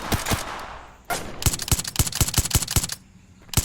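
Rapid bursts of gunfire from the Spetsnaz loadout in the VR shooter Tactical Assault: sharp, close shots in quick volleys, with a brief pause before a final few rounds.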